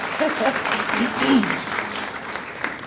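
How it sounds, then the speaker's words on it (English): Audience applause at a career and workforce summit, a steady wash of many hands clapping with a few voices and whoops mixed in, fading slightly toward the end. "yes, we can applaud ourselves for that"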